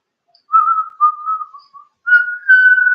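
A person whistles a short, clear tune up close, with several sustained notes broken by brief pauses and no other sounds.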